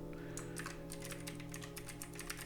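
Rapid, uneven keystrokes clatter on a computer keyboard, fairly faint and close, over a steady background hum with no talking.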